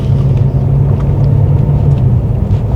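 A BMW M5 F90 on the road gives a steady, loud low engine rumble with constant road noise and no sharp revs, driven at a normal pace.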